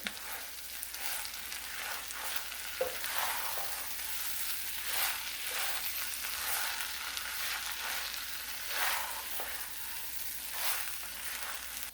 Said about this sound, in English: now we're going to add in our garlic here. And we're just going to cook our garlic until it becomes fragrant